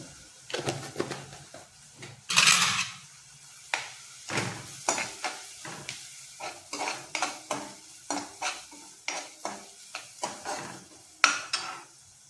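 Pink-fried onions with roasted masala are stirred in a pan, making repeated clattering scrapes of a spoon against the metal. The strokes are irregular and fairly close over a faint low sizzle, with no voices.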